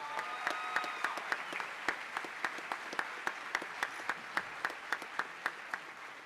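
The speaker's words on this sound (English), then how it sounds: "so let's give them a round of applause for that" At a high school graduation ceremony, quiet crowd applause settles into steady, evenly spaced rhythmic clapping, sharp regular beats over a soft background murmur.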